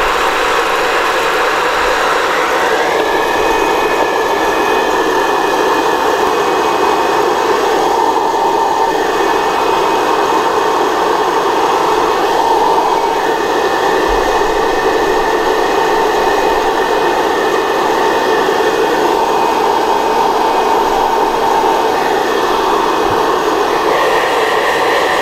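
A popcorn popper roasting coffee beans blows a loud, steady whirring hot-air roar with a faint high whine, continuous and close, while chaff swirls inside.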